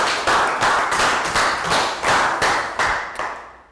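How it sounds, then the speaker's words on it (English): A Year 3 health education class gives a rhythmic round of applause, a series of about a dozen sharp, evenly spaced group claps close by that trail off at the end. "Round of applause for down."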